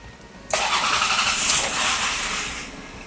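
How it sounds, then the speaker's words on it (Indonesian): A Toyota Harrier 3.0 SUV with automatic transmission starts up: a sharp crank catches at once and settles into a steady, loud, close idle hum. "Kita mulai dari startup engine."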